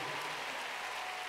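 A church congregation in a cathedral claps in a dense, steady burst, with a hiss-like wash of many hands heard from a distance.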